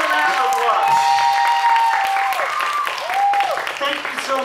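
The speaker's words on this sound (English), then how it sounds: "let's give them a round of applause" Audience applause after a band concert at a youth day camp, with some cheering, mixed with tonal sounds like a held instrument or voices, moderately loud and continuous.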